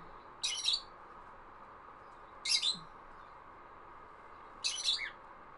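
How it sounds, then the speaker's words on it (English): Three bright bird chirp bursts, evenly spaced about two seconds apart, stand out clearly over a steady low room hum while a game is being played, with no talking. "I'm gonna say sorry for the bird noises, but they live here"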